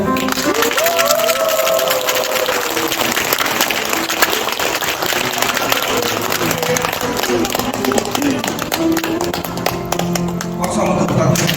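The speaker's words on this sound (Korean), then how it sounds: "박수 한번 더 부탁드립니다" Sustained applause from a seated crowd at a ribbon-cutting during a Buddhist temple ceremony, dense clapping filling the room with a host's voice speaking over it.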